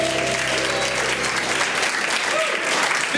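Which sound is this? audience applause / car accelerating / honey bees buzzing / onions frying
audience applause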